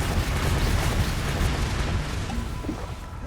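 A Confringo blast spell explodes in the video game Hogwarts Legacy, a loud, dense booming rumble that fills the whole clip and slowly fades toward the end.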